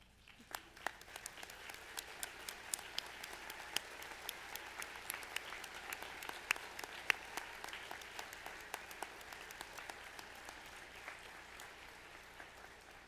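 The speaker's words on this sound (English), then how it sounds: "if you could just please stand and we will give you a round of applause" A small crowd at a graduation banquet claps steadily for several seconds, a dense patter of hands heard from a distance, fairly quiet with no talking.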